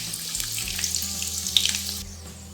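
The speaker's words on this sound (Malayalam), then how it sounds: "വെളുത്തുള്ളി നന്നായി വഴറ്റി വരുന്നുണ്ട്" Chopped garlic fries in oil in a pan with a steady, close hissing sizzle that stays loud and even, then softens near the end, with no voices.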